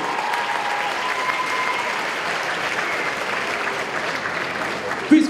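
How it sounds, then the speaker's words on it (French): Crowd at a cosplay contest during an anime and manga convention applauds a costumed contestant. The clapping stays even and sustained, with a brief louder bump just before the end. "Et on l'applaudit bien fort,"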